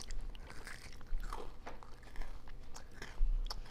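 Crunchy bites and chewing of homemade unicorn chocolate chip cookies, several close crisp crunches in an uneven rhythm at low volume.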